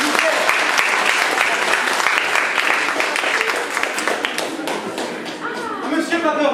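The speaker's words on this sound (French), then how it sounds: "On peut l'applaudir bien fort, s'il vous plaît." Theatre audience applauding loudly and steadily for a performer in a Bordeaux theatre staging of La Supercherie réciproque, a dense wash of clapping throughout, with a voice briefly speaking over it near the end.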